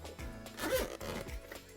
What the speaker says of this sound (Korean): 지퍼 한번 열어보도록 하죠.